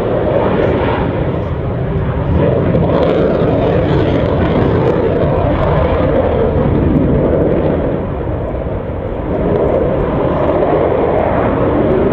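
An Avro Vulcan bomber flies past at the RIAT Fairford airshow, its engines giving a broad, steady roar that stays loud and continuous throughout, with no voices.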